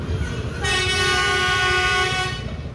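An SSP rail maintenance vehicle pulling out of a railway workshop in reverse, sounding a long steady horn blast over a low rumbling engine and track noise.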